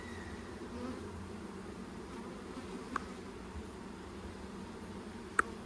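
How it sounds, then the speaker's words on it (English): Honeybees agitated after being shaken off frames during a hive inspection fill the air with a steady, dense buzzing drone, with a couple of sharp close clicks standing out against the constant hum. "I shook off a lot of bees. Now they're going to be angry"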